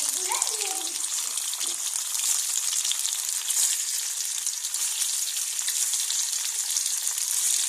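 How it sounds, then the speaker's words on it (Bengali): Paneer frying in a pan, a steady bright sizzle close up and continuous throughout, with a brief low clunk near the start. "পনিরটা ভেজে নেব।"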